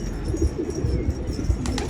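Soft, low pigeon cooing repeats in a gentle rhythm, fairly close, with a faint bird chirp near the end.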